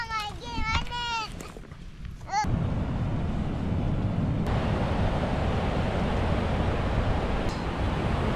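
Water rushing out at a cold, windy shoreline: a steady broad wash of flowing water and surf with wind buffeting the microphone, preceded by a voice and brief talk at the start.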